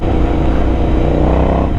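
Royal Enfield Continental GT motorcycle engine running steadily up close, a loud continuous throbbing rumble held at an even pitch throughout with no talk.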